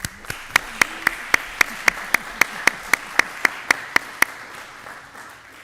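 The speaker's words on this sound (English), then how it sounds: "if I can ask our community members to join me in a round of applause" A school board meeting audience answers with a round of applause, heard as a single steady pattern of about fifteen evenly spaced, crisp claps, fairly close, that fades out near the end.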